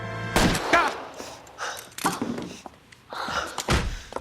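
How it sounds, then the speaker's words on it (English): A punch to the face in the video game L.A. Noire, heard among a handful of sharp, thudding impacts spaced through about four seconds, each hit abrupt and close. "Punch right in the face."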